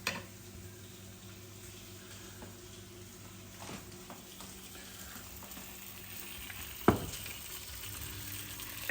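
Tomato slices sizzle in a buttered frying pan, cut side down, a steady low crackle of frying throughout with a sharper pop or clatter near the seventh second.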